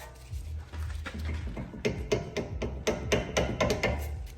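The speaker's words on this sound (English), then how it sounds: "I'm gonna go ahead and just get the caliper off. Just have to use my pry bar." A pry bar works a rear brake caliper off a BMW 3 Series, sounding as a string of sharp metallic knocks and taps that quicken into a rapid run in the second half, over a low background hum.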